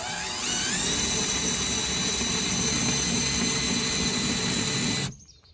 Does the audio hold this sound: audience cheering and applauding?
no